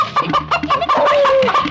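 Chickens cluck in a quick, close run of short clipped calls, with one longer drawn-out note near the end, loud and alone.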